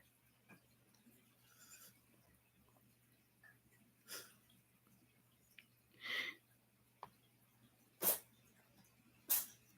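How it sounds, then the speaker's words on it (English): A dog sneezing indoors, several short sharp snorting sneezes spaced a second or two apart, close and moderately loud against a quiet room hum. "You gonna give me a full sneezing fit?"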